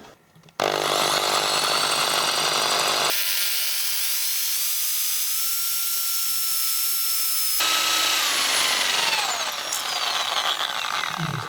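A cordless battery drill runs in loud bursts while drilling, its high motor whine rising and shifting in pitch with load, stopping briefly between passes before spinning up again.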